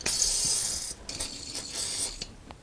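An impact wrench with a 30 mm impact socket loosening the driveshaft nut on a Renault Twingo: a fairly faint, high, rattling whir that runs steadily and then breaks into short irregular bursts.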